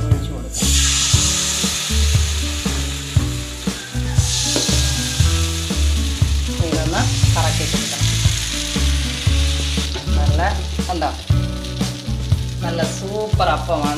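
Palappam batter is poured into a hot appam pan and sizzles in a steady, loud hiss that lasts throughout, with tonal background music running underneath.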